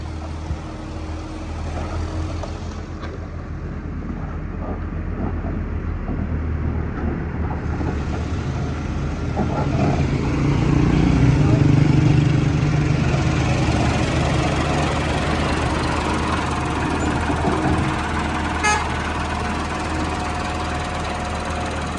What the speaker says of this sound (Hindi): इस जगह पर फिलहाल ट्रैक्टर भी और एक्सीवेटर भी जनाब सफाई करी रहे हैं